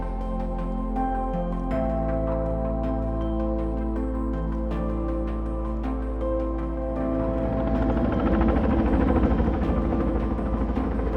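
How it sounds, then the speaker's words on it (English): A helicopter delivering large wood to a river in the Sandy River Basin during habitat restoration thumps steadily nearby, its rotor beat and engine whine growing louder and rougher toward the end, no talk. "Today we were using a helicopter to deliver large wood."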